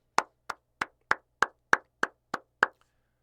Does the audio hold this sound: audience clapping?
yes